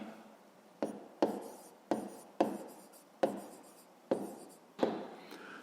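A pen writes on paper during a fifth-grade math exercise, close scratching strokes in about seven quick bursts, each starting sharply and trailing off, with no voices.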